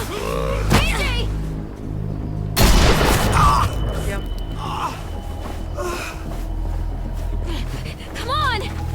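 Gunfire in The Walking Dead video game, with a sharp crack and then a loud, dense burst of shots and booms partway through, mixed with shouting and game sounds.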